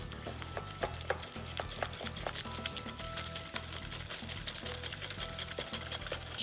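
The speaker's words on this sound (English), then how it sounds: "Two nice tablespoons of mascarpone cheese. Whisk that into the egg yolks." A whisk beats mascarpone cheese into egg yolks in a bowl to make a custard for rice pudding, giving a fast, steady rhythmic tapping and scraping that continues without pause.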